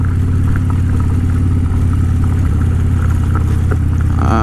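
A 2013 Harley-Davidson Dyna Fat Bob with a 103 engine rumbles steadily while riding along a road, a loud, continuous low engine drone with faint shifts in pitch and no talk.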